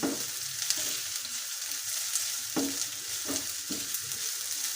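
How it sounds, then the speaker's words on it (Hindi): Fried chicken sizzles with onions in a pan, a steady close frying hiss broken by a few soft knocks as it is stirred. "अब हम इसमें जो फ्राइड किया हुआ था चिकन शामिल करेंगे और इसको हम थोड़ा सा फ्राई करेंगे"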